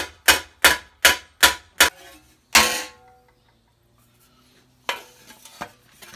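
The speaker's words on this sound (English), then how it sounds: "So I'm just using a square headed face hammer, and I'm just working on that side." Square-headed face hammer striking spring steel greaves during forming: six sharp ringing metallic blows in quick succession, a seventh after a short pause, then quiet before a few lighter taps near the end.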